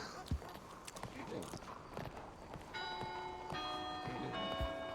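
Church bells ringing the hour in a video game, sustained tolls entering partway through and layered over hoofbeats and footsteps, with talk underneath.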